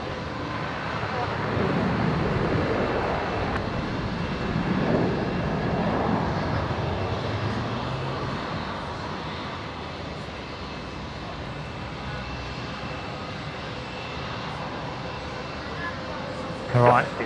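An airliner landing on runway 19 left at Brisbane airport gives a steady, fairly distant engine roar that swells slightly and then fades, with people talking over it throughout.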